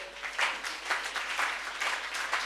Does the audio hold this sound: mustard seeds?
no